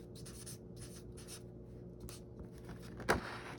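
A pen scratches faintly and steadily on paper while a thank-you note is written, with one brief louder tap near the end.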